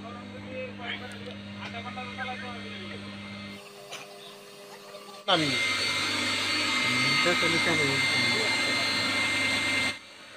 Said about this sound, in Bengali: এখানে দেখতেছেন নিচে সেন্ট্রিফিউজ মেশিন।